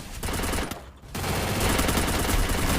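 Rapid, loud gunfire from the shooter video game Free Fire, sniper play: dense bursts of shots fill the clip almost continuously, pausing briefly near the start before resuming in a sustained barrage, with no voice over them.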